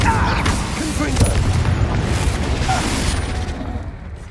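In Hogwarts Legacy, a Confringo blast curse explodes with a booming burst over dense battle rumble, followed by a steady wash of noise that fades slightly toward the end.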